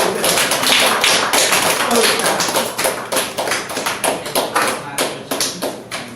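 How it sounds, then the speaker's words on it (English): An audience gives a presenter a round of applause: loud, dense clapping from many hands that fills the room, then thins into sparser, separate claps toward the end. "Let's give her a round of applause."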